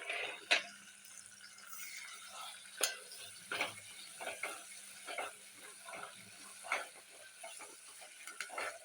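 Ginger is stirred in a pan for Bombay rava upma, a spoon scraping in quiet, irregular strokes over a faint, steady sizzle, with no one talking.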